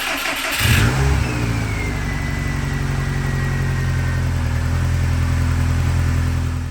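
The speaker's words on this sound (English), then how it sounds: "I'm gonna start the car one more time." A Subaru WRX wagon's built engine cranks and catches, then settles into a steady, loud running rumble that holds without a break.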